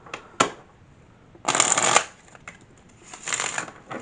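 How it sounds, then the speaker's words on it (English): A deck of cards is riffled and shuffled in two quick bursts, with a few soft taps and a short flutter near the end, close and fairly quiet. "Let me just give it one more shuffle."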